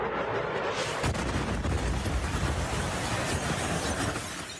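A sustained, loud roar of an explosion in news footage fills several seconds with dense, rumbling broadband noise that fades only slightly at the end.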